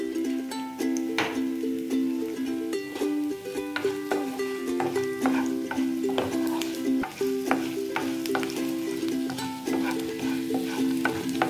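Chana dal, mustard seeds, cumin and fenugreek sizzling in hot oil for a chutney tempering, a continuous close crackle with sharp pops and occasional clinks of stirring over a steady musical tone in the background.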